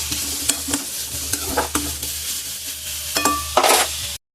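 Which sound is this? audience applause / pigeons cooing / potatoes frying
potatoes frying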